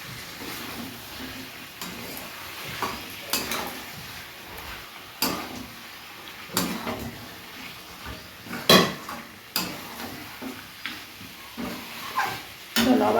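A spoon stirs potatoes into chicken kosha curry in a metal pot, making irregular scraping strokes and sharp clanks against the sides, some louder hits standing out.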